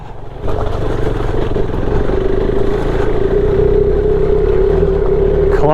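A KTM 390 Adventure motorcycle with a heavy skid plate climbs over rocks. Its engine drones loud and close after a brief quiet start, with a rising steady note and clattering knocks from the terrain.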